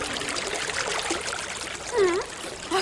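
Steady trickling water runs into a leaking boat throughout, with a few gurgling, bubbly sounds near the end; no one speaks.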